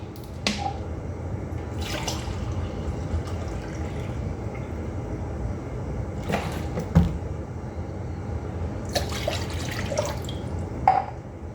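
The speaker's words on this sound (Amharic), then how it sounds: "ይኸው በብርጭቆ እየለካው ውሃውን ጨምራለሁ ማለት ነው።" Water measured in a glass is poured into a creme caramel mixture in a kitchen, heard as several short splashing pours and drips spaced apart over a quiet background.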